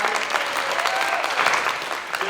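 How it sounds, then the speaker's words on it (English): A live audience applauds the cast of a movie at an evening Q&A event, steady dense clapping filling the room for a couple of seconds, with a few faint whoops mixed in. "can we get an awesome round of applause for everyone who was in the movie that isn't us five?"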